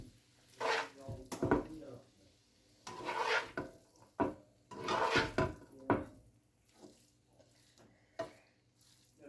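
Chilli paneer noodles being mixed with green onion and coriander, giving several short bursts of scraping and stirring against a pan, close and moderately loud, with quieter pauses between.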